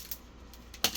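Brittle dried sourdough starter snaps and shatters, giving two sharp close cracks, a small one near the start and a louder one just before the end.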